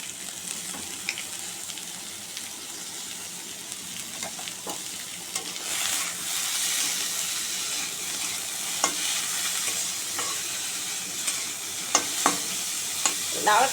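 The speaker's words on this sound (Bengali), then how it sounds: "লাউয়ের খোসাটা একটু ভাজা ভাজা করে নেব, তারপর সর্ষে বাটাটা দেব।" Boiled bottle gourd peel seasoned with salt and turmeric sizzles and fries in a pan, with steady crackling and repeated scrapes of stirring, louder in the second half, with no talk.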